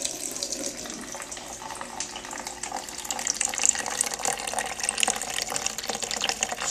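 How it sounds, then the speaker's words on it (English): Water streams steadily from the hot water spigot of a brand-new hot and cold water cooler, a continuous soft hiss and trickle that grows slightly louder partway through, with no voices. "you can hear the water coming out of the hot water spigot"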